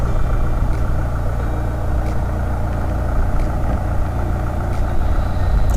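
A Mini Clubvan engine runs steadily, loud and close, with a constant rumble buffeted by strong gale-force wind in Blackpool, with no clear changes in pace.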